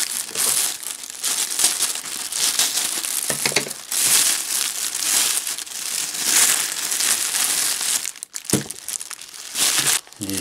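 Plastic packaging of adhesive plasters ordered from AliExpress crinkles and crumples steadily while being unwrapped up close, with brief pauses and a few sharper rustles near the end.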